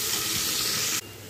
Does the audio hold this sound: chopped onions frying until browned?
yes